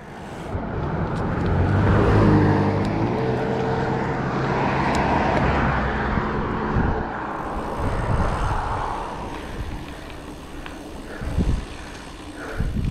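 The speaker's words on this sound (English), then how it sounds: "Fucking car." A car on the road passes close by a gravel bike rider, its engine and tire noise swelling loudly, then fading, with wind and rolling bike noise continuing after it.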